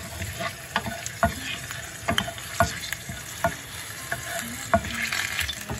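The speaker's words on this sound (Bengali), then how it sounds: "ফোড়নটা দিয়েছি, শুকনো লঙ্কাটা কালো হয়েছে," Whole spices and a dried red chilli temper in hot oil for a rohu fish curry with potato and cauliflower. A steady close sizzle runs throughout, with regular stirring scrapes knocking against the pan and no voices.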